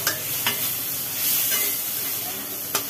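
Bottle gourd is stir-fried with a little sugar in a pan. A steady sizzle runs throughout, broken by a few sharp spatula scrapes, with no talking.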